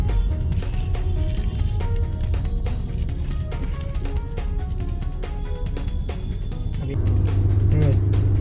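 A fifth-generation Honda City cruises in second gear at about 50 km/h, giving a steady, moderate cabin hum of engine and road noise under a person talking.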